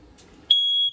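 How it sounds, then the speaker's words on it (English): RV smoke detector in a 2015 Jayco 195RB travel trailer gives one sharp, loud high-pitched beep lasting about half a second after quiet room tone. "Up from it, you're gonna find your fire alarm."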